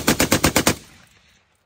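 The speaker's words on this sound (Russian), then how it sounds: "Постреляем так для понтів с рук." Rapid burst of six loud gunshots from a handheld firearm, fired in quick even succession up close, then a short ringing decay into quiet.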